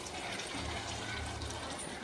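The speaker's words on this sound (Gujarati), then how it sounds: "થોડુંક પાણી આપણે ઉમેરી દેવું" A little water poured into a pan of frying kantola curry, a soft continuous splashing pour with faint sizzle, quiet and steady for a couple of seconds, no talking.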